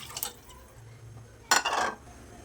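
Water splashes briefly into a pot of khichdi, with a short burst of pouring after some light clinking and a quiet pause.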